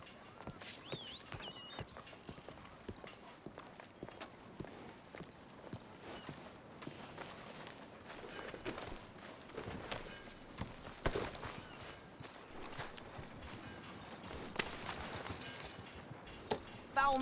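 Horse hooves clip-clop steadily at a riding pace in the game Red Dead Redemption 2, a repeated rhythmic beat on the trail with faint outdoor ambience and occasional creaks throughout.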